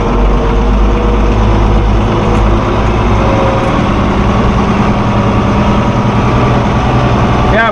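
A heavy diesel engine idles steadily and loudly on a farm vehicle used for moving hay in the rain, a constant low rumble filling the whole stretch.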